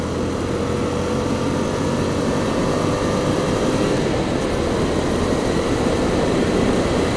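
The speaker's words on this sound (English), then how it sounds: "I just took off in second gear. See, this bike is really low geared." A Yamaha FZ-07 motorcycle pulls away in second gear on a night ride, its engine a steady, loud broadband drone blended with constant wind roar, with no pauses.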